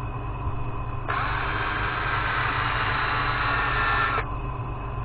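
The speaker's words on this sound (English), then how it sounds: "2-inch disc sander." A 2-inch disc sander running at speed 500 sands a 15-inch sycamore platter on a lathe, a steady hiss of abrasive on wood lasting about three seconds over a constant low motor hum.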